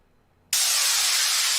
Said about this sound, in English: There it is, big long noise down sweep.